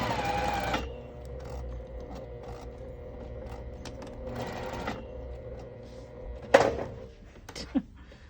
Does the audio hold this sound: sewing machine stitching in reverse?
yes